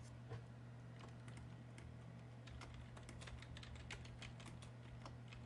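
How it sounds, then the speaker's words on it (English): Fingers tap steadily on a computer keyboard, a close, quiet run of irregular clicks over a constant low electrical hum. "I'm going to type"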